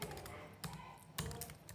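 Typing on a computer keyboard while coding HTML input fields in a tutorial, soft steady key clicks with a few louder strokes, quiet and close.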